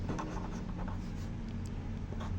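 Chalk or marker scratching on a classroom board in quick, faint strokes, short taps and scrapes repeating over a low room hum.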